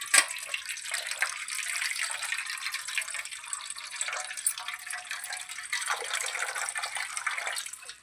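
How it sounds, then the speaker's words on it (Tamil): Water pours steadily into a vessel for mango rasam with tamarind, coriander and curry leaves, a continuous splashing stream lasting several seconds with no talking. "ரசத்துக்கு தேவையான தண்ணி நம்ம ஊற்றிக்கலாம்."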